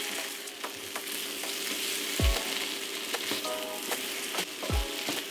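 Tomato paste, ginger and garlic fry in a pot for a beef stew, sizzling steadily and close up, with occasional stirring scrapes and soft knocks against the pot.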